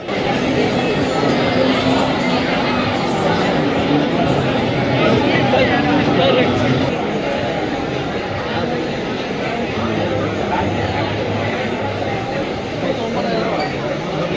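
A dense crowd packs the stalls at the Broadcast Media Cinema Expo in Chennai Trade Centre, a loud continuous hubbub of overlapping voices and occasional clinks filling the hall.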